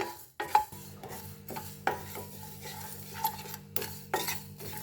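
Mustard seeds and spices dry roasting in a pan, with a spoon stirring and scraping against the metal in several distinct strokes over a faint steady hum, close and quiet.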